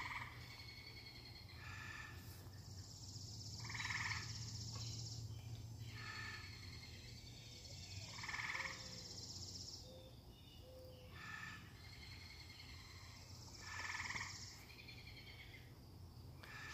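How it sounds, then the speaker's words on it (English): Frogs croaking and birds calling outdoors on a warm evening, a dense overlapping chorus of continuous croaks with recurring bright chirps and calls rising every few seconds, steady and fairly distant with no voices. "It's like all the frogs and the birds are all yelling at each other right now."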